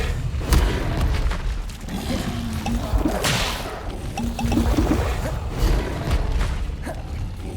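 Levioso spell cast in the Hogwarts Legacy video game, heard as a loud whip-like magical whoosh and boom over a continuous game soundscape with rumbling ambience.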